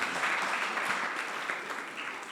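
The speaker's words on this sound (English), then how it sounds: "A round of applause for Prof." Brief applause from an audience at a community dialogue after a professor's remarks, moderately loud clapping that thins slightly toward the end.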